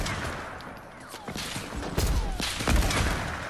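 Gunfire in the video game Fortnite, a few sharp shots and bursts scattered over a noisy game soundscape, with a player talking over the action.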